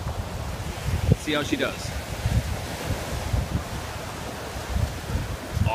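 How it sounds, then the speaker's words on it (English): Steady wind buffets the microphone at an ocean beach, with a broad hiss of surf underneath. A voice speaks briefly over the rushing noise. "Are those big waves"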